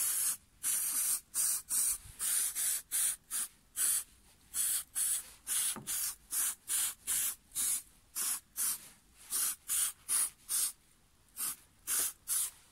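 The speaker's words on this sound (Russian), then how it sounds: "Умеренно распылите состав на обрабатываемую поверхность." An aerosol can of silicone remover sprays in many short, sharp hissing bursts, roughly two dozen evenly spaced puffs close by with brief silences between them.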